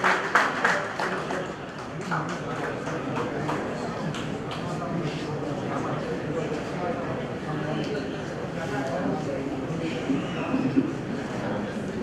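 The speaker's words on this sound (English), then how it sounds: "Please put a round of applause for Ramarao sir." An audience at a business conclave claps in a steady round of applause that lasts the whole time, with a voice speaking over it.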